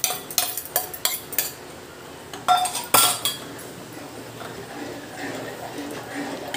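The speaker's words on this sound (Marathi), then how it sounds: "अशी ढवळतच राहायचं आहे, असं साईडला जायचं नाही आहे सोडून" Kulith flour batter with kokum stirred in a pan, a spoon scraping and clinking against the metal in quick irregular taps, loud at first and then settling into a softer, steady swishing.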